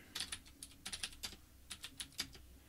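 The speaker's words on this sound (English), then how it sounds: "If I can type." Quiet, close typing on a computer keyboard: about a dozen crisp key clicks in quick, uneven bursts with short pauses, alone and faint.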